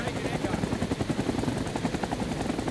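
The door-mounted minigun on a Bushranger helicopter in Rising Storm 2 fires a dense, rapid stream of shots over the deep, pulsing thump of rotor blades, loud and close throughout.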